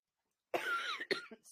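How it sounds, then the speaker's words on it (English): Two sharp coughs close to the microphone, one after the other, breaking a quiet moment. "Excuse me with the coughing."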